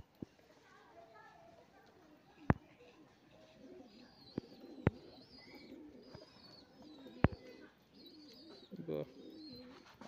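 A female Kotashi pigeon gives soft, low coos at intervals, close by, broken by a few sharp clicks, with faint background chatter and children's voices.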